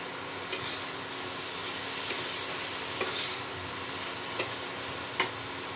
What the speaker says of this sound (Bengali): এবার এটা মশলার সাথে ভালো মতো মেলাতে হবে।